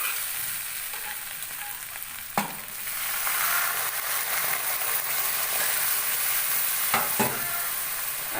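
Water poured into rajma masala frying in a pan, setting off a loud, close, steady hiss and sizzle, punctuated by a couple of sharp clinks from stirring.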